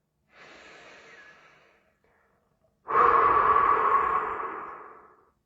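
A person breathes in deeply and audibly, pauses, then lets out a longer, louder, forceful exhale at close range, with no talking.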